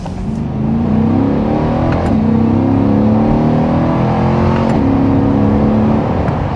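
A 2023 Corvette Stingray engine pulls hard along a rural road, its loud, close drone rising steadily in pitch through the gears, with brief shift breaks and no talking.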